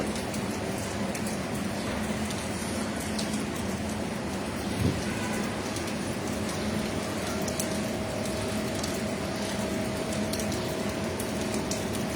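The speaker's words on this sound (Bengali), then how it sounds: "বৃষ্টিটা কিছুটা আবার বাড়ছে" Steady rain falls throughout, a dense continuous patter with no pauses and no voices.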